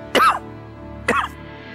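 A man coughs twice, sharp and close, about a second apart in a quiet room.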